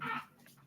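A dog gives a brief, soft whimper, a quick high whine at the start that trails off into fainter whines within a second, with no talking.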